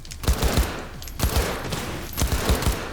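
Gunfire from Cyberpunk 2077 lands as three clusters of quick, punchy shots close together, spaced about a second apart over steady background noise.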